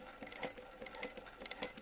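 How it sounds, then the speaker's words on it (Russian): A Jack H2-CZ-12 industrial sewing machine runs at 2200 stitches per minute, giving a fast, even, rattling needle clatter that repeats steadily and sounds close and fairly quiet. "Хочу показать вам 2200 на швейной машинкой Джекаш 2."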